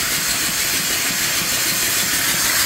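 An antique steam boiler engine hisses loudly and steadily while it pumps water into the boiler, a continuous broadband rush that stays close and unbroken throughout with no talking.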